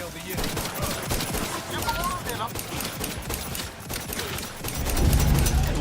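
Rapid bursts of gunfire rattle through a firefight in the video game The Outer Worlds 2, dense overlapping shots with a heavier thump near the end, mixed under game noise.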